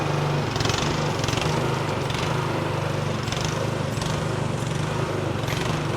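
The small engine of a Nifty 34-foot towable lift runs continuously while its outriggers are readjusted, giving a loud, steady buzzing drone like a lawn mower with no pauses.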